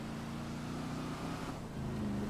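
A lowrider car drives in the GTA 5 video game, its engine a steady, fairly quiet drone with a slight dip and rise in pitch, heard alone.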